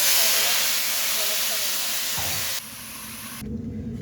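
Oil sizzles and hisses steadily in a pan as shallots are stirred in for rice, a broad continuous frying hiss that drops slightly near the end.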